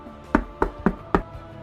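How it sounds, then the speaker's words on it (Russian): Four sharp knocks land on a door in an uneven rhythm, close and fairly loud, with no voices. "то услышал стук в дверь."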